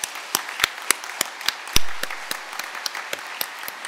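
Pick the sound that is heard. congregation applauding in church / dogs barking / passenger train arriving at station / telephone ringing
congregation applauding in church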